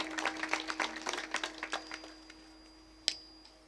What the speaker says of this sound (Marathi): भूषण दादांसाठी एकदा जोरदार टाळी वाजवा